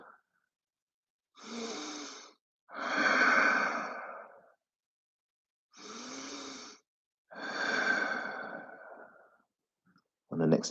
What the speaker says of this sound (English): If you lost your ujjayi, you want to come back into it, use this opportunity to come back into your breath.